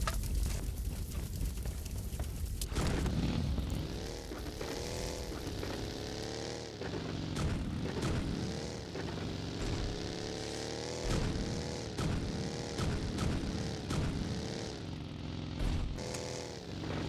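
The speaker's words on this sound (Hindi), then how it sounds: "उधर मेरे को गन शॉट्स के आवाज़ आ रही थी" Gunfire and game action in PUBG Mobile Lite, heard as repeated sharp bursts over a dense, loud wash of music and in-game noise, with the sharp hits scattered steadily throughout.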